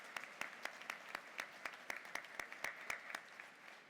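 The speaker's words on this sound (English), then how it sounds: "Graduates, join me in applauding the parents." A college commencement audience in May 2019 gives the graduates' parents a round of applause, heard as scattered, fairly distant clapping with sharp individual claps standing out from a soft, continuous patter.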